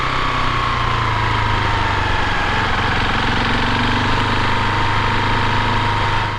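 A Euro 4 motorcycle with its stock exhaust runs at a steady idle, a constant close engine drone with a low throb and mechanical whir, loud and unbroken, with no talk.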